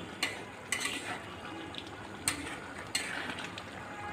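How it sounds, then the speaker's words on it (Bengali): Stirring shol fish bhuna curry with cumin powder in a pan: a utensil scrapes and knocks against the pan a few times over a steady background sizzle, close and moderately loud, with no voices. "তো এখন আমি জিরার গুঁড়া দিয়ে দিব এক চামচ, দিয়ে নেড়ে চেড়ে আবারও ঢেকে দিয়ে রান্না করে নেব কিছুক্ষণ"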